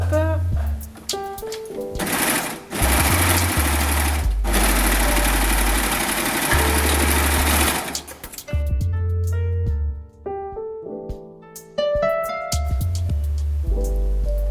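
An overlocker serging the crotch seam of a trouser fly, fast loud mechanical whirring in two steady bursts with short stops between, close up, while a person talks in between runs.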